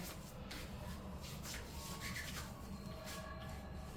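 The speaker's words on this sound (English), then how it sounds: "And I can just rub this on the skin." Hands rub infused herbal oil into the skin, a steady, soft, close rubbing and swishing that continues unbroken and quietly throughout, with no voices.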